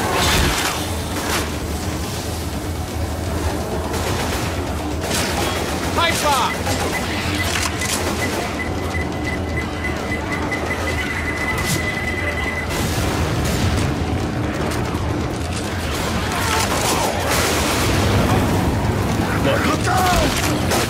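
Pipe bomb blast in the zombie shooter Left 4 Dead 2, set amid a dense wall of game noise with heavy low rumble, gunfire and a beeping tone, under shouting players and chaotic combat.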